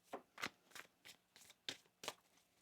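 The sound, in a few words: shuffling tarot cards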